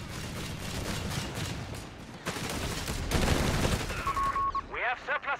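Rifle squads in Company of Heroes 3 keep up steady suppressing fire, a dense rattle of overlapping shots that runs on and on, with a voice talking over part of it and brief game cues near the end.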